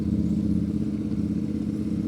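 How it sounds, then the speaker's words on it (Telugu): A Royal Enfield GT 650 motorcycle ridden along a beach road, its engine and exhaust giving a steady, close, low rumbling drone with no talk. "సో ఎగ్జాస్ట్ నోట్ అయితే అంటున్నారు కదా, అలా వస్తుందో"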